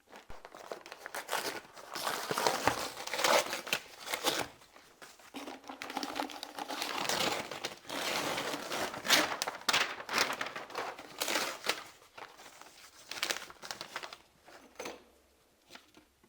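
Gift packaging of a gun cleaning mat being torn open by hand, with a long run of loud crinkling, ripping and rustling bursts close to the mic and no voice.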